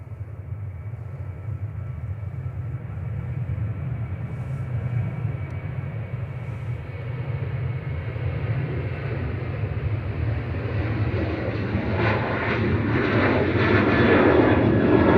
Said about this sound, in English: Ryanair 3226, operated by Ryanair UK, heading over to Oslo.